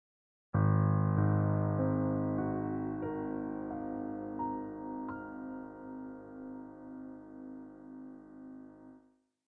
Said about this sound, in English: On a piano, these pitches sound like this.